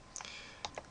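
Computer mouse clicks while partitioning a hard disk drive: three or four quiet, sharp clicks spaced irregularly over a faint background hiss.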